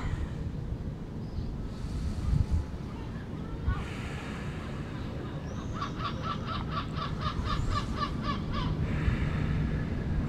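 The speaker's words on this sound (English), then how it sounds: "Maybe you can hear the seagulls." Seagulls call near the ocean in a rapid run of sharp cries, fairly distant, over steady surf and wind rumble.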